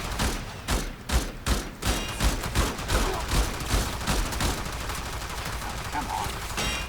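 Rapid bursts of Burston Prime rifle fire in Warframe crack out in quick, rhythmic volleys, loud at first and then thinning into scattered shots and background game noise.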